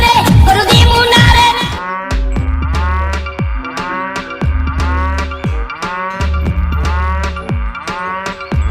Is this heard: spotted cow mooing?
yes